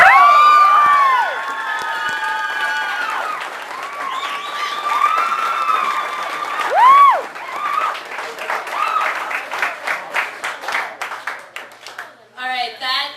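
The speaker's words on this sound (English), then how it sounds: "I'd really like to hear you guys applaud for him again" Audience in a poetry venue bursting into applause and whooping cheers after a reading, loud clapping mixed with high shouts that thins into scattered claps toward the end.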